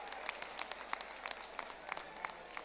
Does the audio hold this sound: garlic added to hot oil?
no